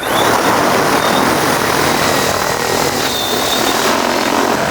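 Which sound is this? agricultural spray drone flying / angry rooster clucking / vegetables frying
agricultural spray drone flying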